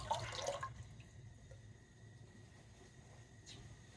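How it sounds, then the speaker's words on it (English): Water splashes and trickles from a faucet as a soup can is rinsed out in a kitchen, a brief burst of running water at the start followed by faint drips and quiet sink sounds. "Shall I wash the can out and put that in there as well?"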